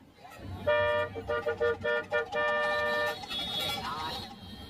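Car horn blaring close by in a run of short, rapid honks followed by one long sustained blast, over low engine and street rumble.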